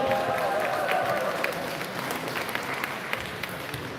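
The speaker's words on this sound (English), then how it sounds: "Let's get a round of applause for Playing at Learning" A crowd applauds at a FIRST Tech Challenge robotics qualifier in San Jose, a dense, steady wash of clapping filling a large hall with faint voices mixed in.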